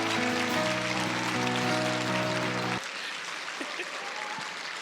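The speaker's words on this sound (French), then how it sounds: "je vous demande d'applaudir et d'accueillir chaleureusement Pasteur Gaétan et son épouse" Audience applause welcoming Pastor Gaétan and his wife Valérie at a marriage conference panel. It comes as loud, dense clapping over a steady musical tone that cuts off partway, leaving a softer crowd murmur.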